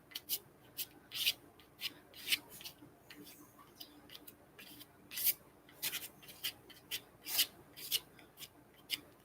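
Hardened, rubbery gold material being scraped in short, repeated rasping strokes, close and fairly crisp, in an uneven rhythm of about two strokes per second with brief pauses.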